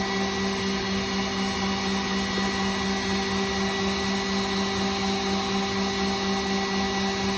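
An electric whisk runs continuously through a Meyer lemon tart mixture, a steady, unbroken mechanical whir with a constant tonal hum, close and fairly loud throughout.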